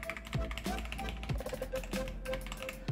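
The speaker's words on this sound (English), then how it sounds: "These cheap keycaps enhances the sound that is coming from the switches or the supporting poles, making it sound louder" Typing on a Ziyoulang K3 98-key mechanical keyboard with red switches and cheap keycaps, a quick run of close clacky keystrokes with uneven rhythm and occasional hollow, louder hits.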